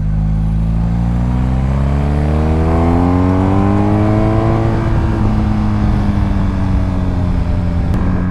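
BMW R 1250 GS Triple Black motorcycle ridden hard on a race circuit, loud engine drone rising steadily in pitch through the gears and then settling into a high sustained roar, close to the rider with no talk.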